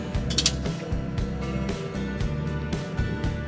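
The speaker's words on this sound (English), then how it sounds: "Stow the ramp in the vertical position again." A wheelchair ramp on a Ford Transit Connect conversion van is folded up into its vertical stowed position, giving a run of mechanical clicks, creaks and ratcheting knocks, close and fairly quiet, with no talking.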